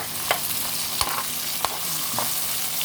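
Tilapia and vegetables sizzling as they fry in a pan, a constant close hiss of hot oil with a few sharp pops and scraping clicks scattered through.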